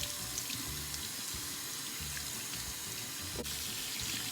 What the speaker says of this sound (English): Try to keep the hot water away. And just rinse her down, controlling where it goes.